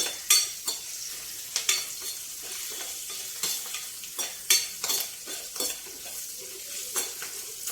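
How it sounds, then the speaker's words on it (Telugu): Whole spices tempering in hot oil in a pan while cooking a Telugu amaranth-leaf tamarind stew, a steady close sizzle broken by sharp scraping clinks of a spoon stirring against the metal at irregular intervals. "చక్కగా వేగిపోయిందండి తాలింపు"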